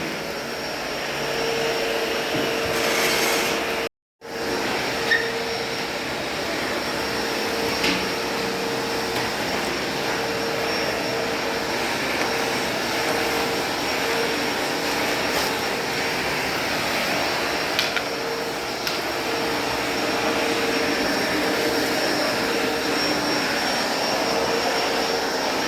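Steady, even vacuum cleaner drone in a garage while it cleans behind a washer and dryer. It holds for a long stretch with one short cut-out early on and no talking.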